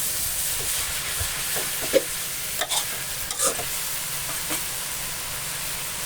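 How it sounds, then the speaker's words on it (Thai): Pink noodles with tofu and bean sprouts are stir-fried in a pan, giving a continuous hiss and sizzle broken by scraping stirs and a few sharp clacks, with no talking. "จากนั้นก็ตามด้วยถั่วงอกครับ ตามความชอบเลยครับ แล้วก็ผัดผัดคลุกเขาอีกทีนึง"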